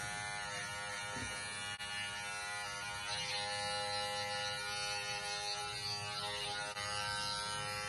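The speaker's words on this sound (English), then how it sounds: "grab your trimmer" An electric beard trimmer buzzes steadily and close by while a barber shapes a customer's beard during home grooming, the tone shifting slightly as it works around the facial hair.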